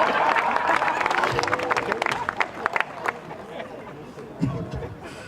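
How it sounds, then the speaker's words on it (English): Audience clapping with some cheering at a mayoral re-election induction ceremony, a dense crowd applause that gradually thins out, with murmured chatter and babble mixed in. "You're supposed to clap."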